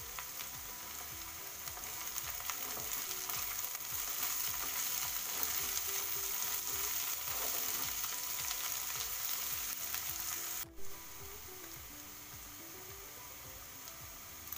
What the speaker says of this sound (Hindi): इसको सुनहला होने तक हम तलेंगे।